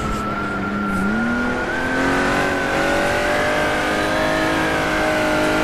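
Jaguar D-type race car at Goodwood holds a steady, loud engine drone close by as it drifts, with a tonal whine that dips and climbs through a gear change and no voices.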